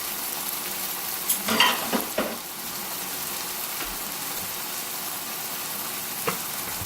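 A T-bone steak sizzles in a skillet with a low, steady hiss, broken by a cluster of utensil clinks and scrapes early on and one more tap later.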